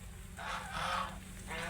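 Ducks being fed at a farmyard call out in a couple of nasal honking bursts over a steady low background hum, fairly close, with no talking.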